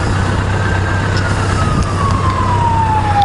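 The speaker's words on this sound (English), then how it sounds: "Here comes an ambulance." An ambulance siren passes on the road near a motorcycle, a loud wailing tone sliding slowly downward over steady engine and road rumble.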